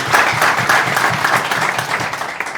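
A studio audience breaks into dense, sustained applause at a dinner-table style talk show, many hands clapping together steadily and close for a couple of seconds, with no one speaking over it.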